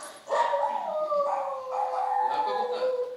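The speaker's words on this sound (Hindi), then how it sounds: "भौंक रहा था" On a stage during a theatre drama, a dog gives drawn-out, tonal howling barks in two long, wavering calls that fill the moment, with no talk over them.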